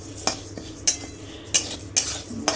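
A metal spatula scrapes and clinks against a pan while stirring mung dal as it dry-roasts, with five sharp strokes at irregular intervals over a quiet kitchen background.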